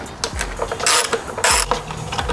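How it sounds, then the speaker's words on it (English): A ratchet fitted with a 10mm socket undoes bolts on a 2008–2014 Subaru WRX, clicking in quick close bursts with two louder, longer rasping strokes in between. "So take a 10mm and undo the 2 bolts."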